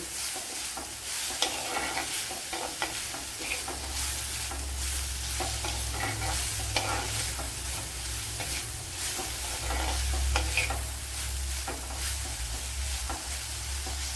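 Ingredients for a Kerala green gram curry sauté in a pan, giving a continuous close sizzle and frying hiss broken by repeated stirring scrapes and taps, with no one speaking.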